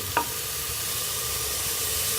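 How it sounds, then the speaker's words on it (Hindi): Ground spices roast in a pan for a saag dish with a continuous moderate sizzle, opened by a single short clink of a spoon. "मसाले शामिल करके इसको अच्छी तरह से मसाले को भून लेंगे"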